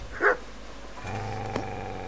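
One short, fairly close bark from a dog in Kingdom Come: Deliverance, followed by a quiet, steady game ambience hum.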